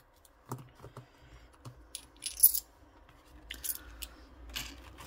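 Coins being counted into an envelope make sparse metallic clicks and clinks, several light taps and brief jingles scattered irregularly, close and fairly quiet with no talking.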